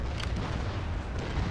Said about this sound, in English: listen to the cannon fire